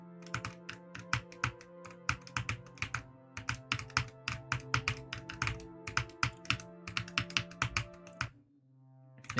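Fast, steady typing on a computer keyboard, with dense clicky keystrokes in quick bursts over a low hum, close and clear, pausing briefly near the end.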